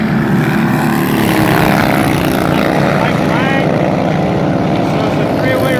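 Century-old motorcycles with no brakes race flat out around a track, their engines making a loud, continuous droning roar that rises and falls as they pass. A commentator talks over the noise.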